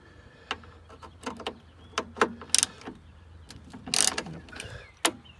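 Torx T30 screws come out of a 2005 Mercedes E320 door, with close, irregular ratcheting clicks, metallic ticks and a brief louder rattle of the tool and door parts.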